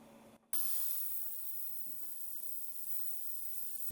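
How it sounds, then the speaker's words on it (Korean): After a click, a CAS TG-PLUS1 ultrasonic washer cleaning fruit gives a steady high-pitched hiss with a faint underlying hum, continuous, like a machine buzzing through water, fairly quiet. "지금 초음파로 세척을 하고 있는 소리가 들려요"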